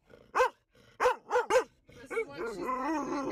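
A dog barks several sharp times up close, pausing between bursts, then gives a drawn-out whining yip as a person talks over it.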